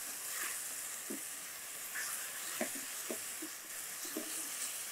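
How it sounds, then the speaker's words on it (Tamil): Onion, chana dal and radish sauté in a pan for radish chutney, giving a steady close sizzle with soft spatula stirs and scrapes scattered through, no voices. "இந்த வெங்காயம், இந்த கடலைப்பருப்பு, இந்த முள்ளங்கி இது எல்லாத்தையும் நல்லா வதக்க ஆரம்பிக்கும்"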